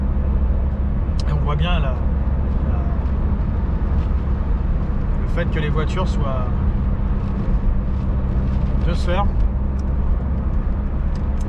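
A 2000 Renault Megane 1.6 16V RXT petrol engine drones steadily from inside the cabin while driving, a constant low hum running beneath someone talking throughout.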